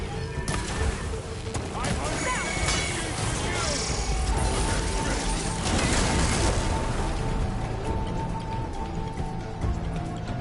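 Robot machines closing in during a fight in Horizon Forbidden West, with clanking mechanical movement, whirring, metallic ratchet sounds and bursts of impacts and gunfire-like rattles, voices talking over the action throughout.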